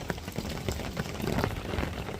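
Rain falls steadily on the bank of a coarse fishing lake, a soft, even patter close by with no voices.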